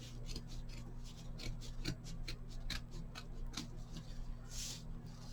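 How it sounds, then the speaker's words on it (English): Scissors snip and rub through burlap for a hoop snowman craft, a quiet series of short crisp cuts and scraping rustles over a low steady hum. "Scissors got caught."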